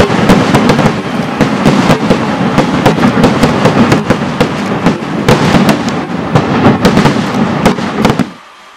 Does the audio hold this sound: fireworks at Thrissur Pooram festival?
yes